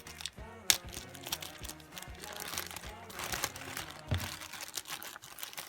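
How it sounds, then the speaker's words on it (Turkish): A plastic bag packed inside a box is opened with close, irregular crinkling and rustling, sharp crackles and clicks scattered through the handling, fairly quiet overall. "Poşetimiz var. Onu açıyoruz."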